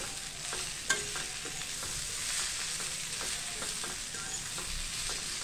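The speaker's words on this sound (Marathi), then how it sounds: "अशा प्रकारे आता हा चांगला बोंबील आपल्याला एकजीव करायचा ह्या मसाल्यामध्ये." Dried Bombay duck (bombil) stirred into a masala in a pan, giving a steady soft sizzle with a few light scraping knocks of the spoon throughout and no talking.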